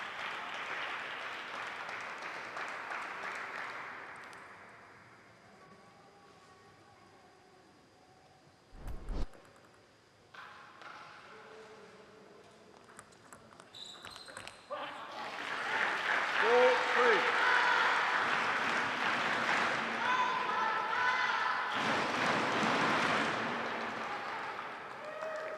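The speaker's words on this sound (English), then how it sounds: "Rowdy Bay Area crowd cheering for their coach." A rowdy Bay Area crowd cheers and applauds for their coach, swelling from scattered clapping into loud sustained applause and cheering, with a commentator talking over it.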